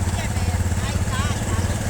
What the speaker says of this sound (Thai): นี่รถไถนะครับ